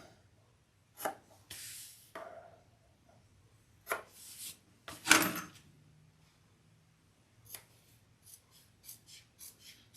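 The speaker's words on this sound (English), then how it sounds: "Then we're going to cut that out." Scissors cut out a traced bag pattern for a harmonica hobo bag, with close, irregular snips and rustles in short bursts separated by quiet pauses.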